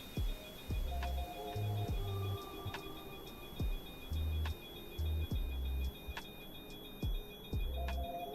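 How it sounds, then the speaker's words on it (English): Repeated electronic beeping from the battery warning of a PMDG 737 in Microsoft Flight Simulator, evenly spaced tones over a steady cockpit hum with faint background noise. "Also, that beeping, I'm sure you shouldn't be able to hear that from the outside."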